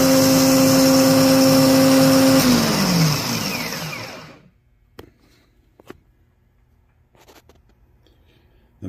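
A starter motor spins loudly on a bench test with an amp clamp and scope attached, a steady whirring drone with a falling tone as it winds down and stops, then near silence broken by a few small clicks.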